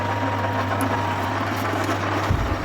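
An old SF-676 milling machine, being converted to CNC, runs with its feed switched on, giving a steady low motor hum with faint mechanical rattle that shifts slightly near the end.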